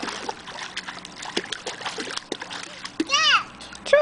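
A young child splashes in water with short bursts of splatter while a child and an adult talk over it.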